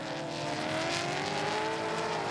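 Supercars race cars battle on track with a steady, loud engine roar and rising pitch as the cars accelerate together, heard without any talk.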